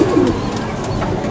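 A Rajasthani pigeon coos nearby, one soft low throaty call at the start followed by quieter background noise.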